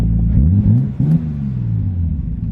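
Nissan R33 Skyline engine revving up and settling back, a deep rumbling car engine with rising and falling pitch, loud and close, with no talking.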